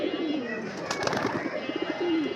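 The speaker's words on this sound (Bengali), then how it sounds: "কবুতরগুলো গোসলের প্রস্তুতি নিতেছে" Pigeons getting ready to bathe coo softly, with several low, rolling coos from nearby over a faint background hum, with the birds close to the listener.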